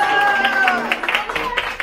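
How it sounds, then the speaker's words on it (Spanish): Loud clapping for children at a Children's Day celebration, quick uneven claps from a small group, with a brief whistle-like tone near the start and crowd chatter underneath. "El aplauso para ellos."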